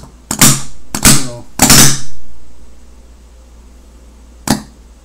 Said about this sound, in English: that's not a bang, that's just the bolt moving forward